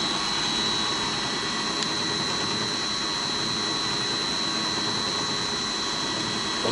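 A drill press with a replacement motor runs on a frequency converter at nearly 50 Hz, about 1800 rpm, giving a steady, loud, even whine and broadband hum with no change in pitch throughout.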